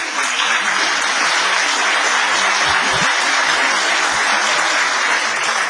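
A live audience applauds during a speech by a Chilean labour lawyer, dense steady clapping that fills the whole stretch at full volume.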